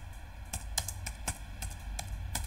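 SQL code being entered on a computer keyboard produces quick, irregular keystroke clicks at close range over a quiet hum, with no speech.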